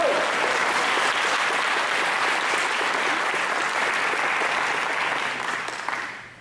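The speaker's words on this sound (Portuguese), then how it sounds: "Aplauda o Senhor por isso, Ele é fiel." A church congregation at a Sunday morning service applauds in a steady, dense wash of clapping that holds evenly, then fades out at the end.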